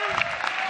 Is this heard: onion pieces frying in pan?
no